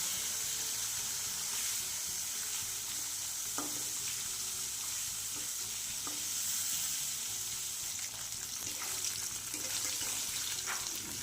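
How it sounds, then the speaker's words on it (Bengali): Fish pieces frying in hot oil, a constant loud sizzle with occasional crackles and soft stirring clicks throughout, no voices over it. "মাছগুলো আমার লাল করে ভাজা হয়ে গেছে বা মাছগুলোকে আমি তেলের থেকে তুলে নেব"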